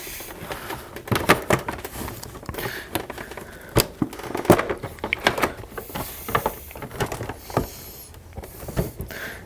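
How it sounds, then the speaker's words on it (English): Plastic body panels being worked loose on a 2017-2020 Honda Grom motorcycle: close, irregular clicks, snaps and creaks of plastic and push pins in short scattered bursts, with no talking. "we're going to go ahead and gently give this plastic a pull"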